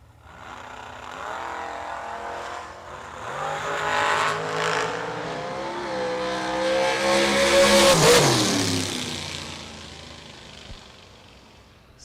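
Drag race cars launching side by side in a 64-car shootout round, engines roaring loud and rising in pitch over several seconds, then fading as they pull away, with a brief sharp sound at the end.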